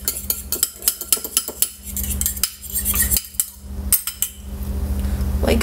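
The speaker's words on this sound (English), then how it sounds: "Then you whisk your egg." A whisk or fork beats a single egg in a bowl for an omelet seasoned with chives and garlic powder, a quick run of sharp clinking taps against the bowl, close and fairly loud, with no talking.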